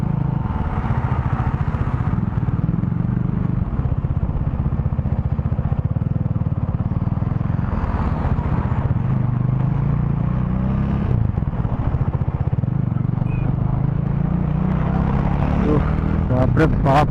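A motorcycle rides a heavily potholed, flooded road in North Bengal, its engine droning steadily and loudly up close with clattering bumps throughout and a faint voice now and then.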